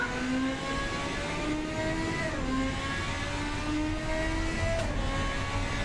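Car engine held at full throttle while driving a track in the Automation game, a steady high-revving drone with rising harmonic pitch and a brief dip at each gear change, loud and continuous with no talk.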